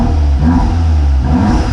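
A Volkswagen Golf R fitted with a Milltek exhaust revs up close and loud, a deep sustained engine roar with a couple of rising surges over under two seconds.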